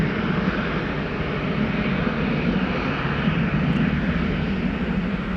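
A KLM Embraer E195-E2, four years old, departs Amsterdam Schiphol for Florence, with a loud, unbroken rumbling engine roar dominated by low frequencies throughout.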